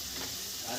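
Bhungla fryums frying in hot oil, giving a steady, close sizzle with soft bubbling that holds evenly through the short moment, with no talking.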